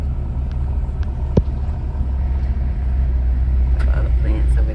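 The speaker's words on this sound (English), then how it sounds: "I think that guy's selling his ATV because he keeps riding it around" An ATV rumbles steadily across an outdoor flea market, engine drone continuous and moderately loud with a faint thump partway through and light background activity.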